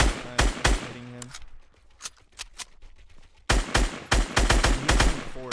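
Bursts of rapid gunfire ring out in an online shooter game, some quick multi-shot volleys and some spaced single shots, with a short quieter gap of scattered shots in the middle.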